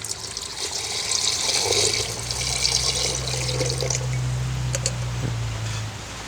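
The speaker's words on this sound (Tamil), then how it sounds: "இந்த கிழங்கு மூடி நிற்கக்கூடிய அளவுக்கு தண்ணி ஊற்றினா காணும்" Water gushes steadily into a pot of freshly dug homegrown tapioca (cassava) roots, set to be boiled. The pour is a continuous, moderately loud splashing rush that eases off near the end, with no talking.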